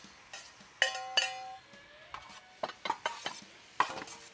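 A spatula stirring a pork char siu stir fry with snow peas and mushrooms in a pan, with several distinct metallic clinks and scrapes against the pan over a faint sizzle, close and fairly quiet.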